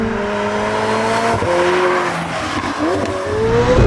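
A McLaren 765LT Spider supercar roars with engine and exhaust under hard acceleration, a loud, close, sustained note with rising and falling pitch and a brief squeal of tires partway through.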